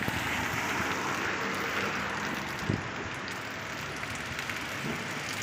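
Steady morning rain falls in a city in Saudi Arabia as a dense, continuous hiss under an overcast sky, with a faint thump partway through and no talking.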